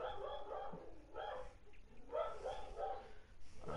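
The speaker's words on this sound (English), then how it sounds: "When your dog barks so loud." A dog barks in a few rough bursts at middle distance, fairly muffled and set against a murky background with no clear talking.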